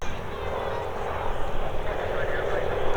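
A wingwalking display biplane at an airshow drones steadily overhead, a continuous engine roar mixed with a commentator's voice over the public address.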